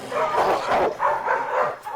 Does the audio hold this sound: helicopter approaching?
no